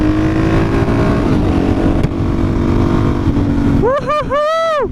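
DRZ 400 four-stroke motorcycle fitted with an MRD Pro Comp exhaust, a steady loud engine drone near the mic, then sharp rising and falling revs as it accelerates hard toward the end.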